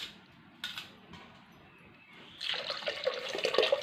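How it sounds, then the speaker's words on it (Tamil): Tamarind water is poured into cooked dal for a village-style sambar. Quiet rustles come first, then a soft splashing pour starts halfway and builds for a second or so, close and gentle. "புளி கரைச்சலையும் இதிலே ஊற்றிடலாம் ஃப்ரெண்ட்ஸ்"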